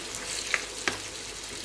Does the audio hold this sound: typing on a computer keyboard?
no